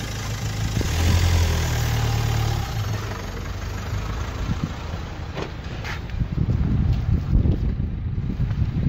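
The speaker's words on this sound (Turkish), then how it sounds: "havada rüzgarlı şimdi bu" Gusty wind buffets the microphone outdoors on a street, a steady broadband roar rising and falling over about nine seconds, with a car engine idling nearby underneath.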